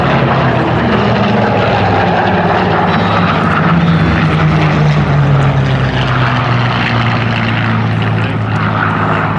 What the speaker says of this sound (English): That aircraft is one of the very rare Merlin-powered versions.